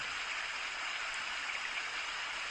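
Recorded rain plays softly in the background, a faint, even hiss of falling water with no talking.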